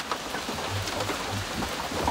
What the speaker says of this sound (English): man, that thunder and lightning.